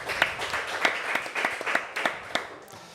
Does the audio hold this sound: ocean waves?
no